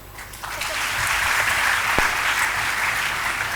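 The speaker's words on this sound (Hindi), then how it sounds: "जोरदार तालियां" Enthusiastic applause from an audience at a Teachers' Day celebration, a dense wash of clapping that builds within the first half second and holds steady and loud throughout.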